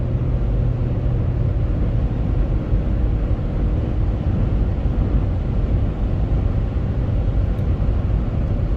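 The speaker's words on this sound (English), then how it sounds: "I'm just going to take it for a ride" Hummer H3 on the road after a transmission swap, heard from inside as a steady low engine and road drone throughout, with no talk.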